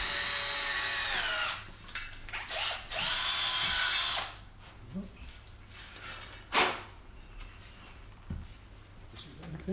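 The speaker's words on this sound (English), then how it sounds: "Let's put a pilot drill through first" A power drill runs loud and steady, boring a 3 to 4 mm pilot hole for a rim lock, then stops and starts again in shorter bursts, with workshop handling noises between runs.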